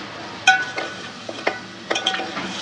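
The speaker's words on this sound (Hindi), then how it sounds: "अब हम इस मसाले को जो है वो अच्छी तरह से भून लेंगे" A spoon scrapes and clinks against a pan as spice masala is roasted and stirred in ghee, giving sparse metallic taps and scrapes over a faint, quiet background sizzle.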